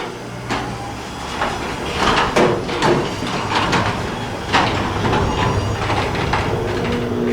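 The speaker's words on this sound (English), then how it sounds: "we'll open the door" A garage door rolls open in a home garage where a 1968 Camaro resto-mod is being built, giving a steady, fairly loud mechanical rumble and rattle with scattered clanks that runs through the whole stretch without talk.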